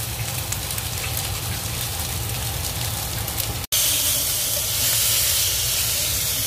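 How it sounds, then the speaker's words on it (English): A McDonald's-style breakfast sausage patty fries in a pan while pressed flat, giving a loud, steady hissing sizzle that briefly cuts out, then resumes slightly stronger. "Press it down a little bit more, flatten it a little bit more."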